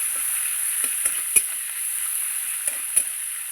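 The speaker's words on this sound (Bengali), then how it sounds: "পেঁয়াজটা আমি একটু ভাজা ভাজা করে নেব" Chopped onion fries in hot oil in a pan, giving a soft continuous sizzle broken by a few sharp stirring clinks and scrapes, heard close with no talking.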